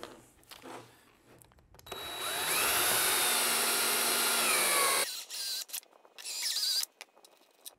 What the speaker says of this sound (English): So we're going to be drilling a 5/8 hole to fit our waterproof grommet right back here.